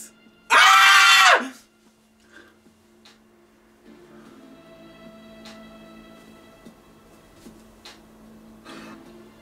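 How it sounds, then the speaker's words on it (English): One person lets out a single loud, sharp yell close to the microphone, lasting about a second, followed by a long stretch of faint background sound with scattered small clicks. "I'm yelling."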